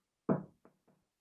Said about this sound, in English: knocks on the open door and comes in